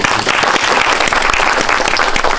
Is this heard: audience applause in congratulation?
yes